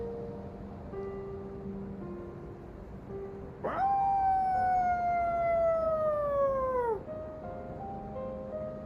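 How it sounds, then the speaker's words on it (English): A dog in the video game Persona 3 Reload lets out a single long, loud howl at a quiet shrine, its drawn-out tone sliding slowly downward for about three seconds over soft background music. "Koromaru's howl resounds throughout the quiet shrine."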